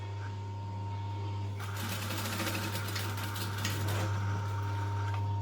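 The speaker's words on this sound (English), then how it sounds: "I'm just going to stitch up to the circle dart point" A sewing machine stitches a circle dart on a bag, its motor humming steadily near and low, then a rapid rattling run of stitches starts after a second and a half and continues to the end.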